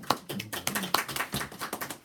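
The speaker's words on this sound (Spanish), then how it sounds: "Un aplauso para ella." A classroom applauds a student with a burst of uneven hand claps, mixed with voices calling out.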